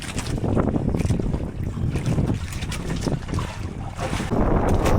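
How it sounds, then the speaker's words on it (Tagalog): Strong wind roars and buffets the microphone continuously, with rushing gusts and a boat-like rumble, no voices. "Ayan hangin mga bay!"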